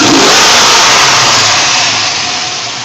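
A 1993 Mazda RX7 engine runs and revs loudly up close, a strong sustained roar that eases slightly toward the end, with no voices.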